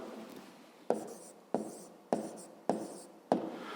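A pen writes a maths exercise answer on paper, producing about five short scratchy strokes at a steady pace, each starting with a sharp tap and fading into a soft scrape, close and quiet with no talk.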